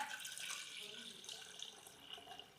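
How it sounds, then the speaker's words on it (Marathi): Water pours steadily into an Agaro Regency multicook kettle with steamer, a soft continuous splashing and gurgling stream that is fairly quiet and close throughout. "केटलमध्ये आपण पाणी ओतून घेऊयात"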